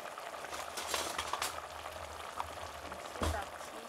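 Capon fillet cooking in a pan: steady soft sizzling and bubbling frying throughout, with faint clinks and small pops, fairly quiet and close.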